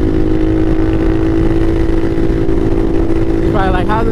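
A Bashan Motomax 250 supermoto with a Nibbi PE30mm carburetor drones steadily under way, its loud engine note mixed with wind rush, and a brief rising tone appears near the end.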